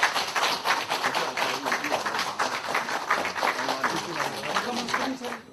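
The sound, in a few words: audience applause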